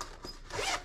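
A short, quiet zipper pull on a bag's front pocket, a brief rasping zip sliding open close by.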